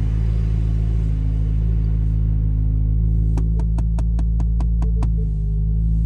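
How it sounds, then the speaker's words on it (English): A Subaru car engine idles just after a cold start, a steady low rumble held close throughout, with a series of about eight sharp, evenly spaced ticks or chimes sounding over it near the end. "You guys can see I literally just started the car."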